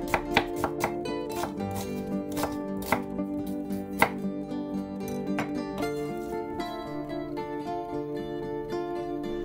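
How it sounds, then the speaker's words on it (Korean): A kitchen knife slicing half an onion into thin strips on a cutting board, a steady series of crisp chopping taps, quicker at first, heard close and alone over soft background music. "양파를 반 개 채 썹니다."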